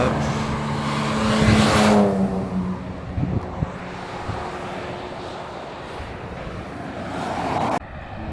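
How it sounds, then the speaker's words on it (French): Ford Mustang race car at the Le Mans Classic racing past, a loud engine roar swelling as it nears and fading away, then more distant engine noise and crowd murmur. "on reprend sur les voitures avec cette Mustang"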